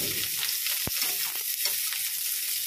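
Boiled cauliflower, first cooked with salt and turmeric, fries in a pan with a constant close hiss of oil and a brief stirring scrape partway through.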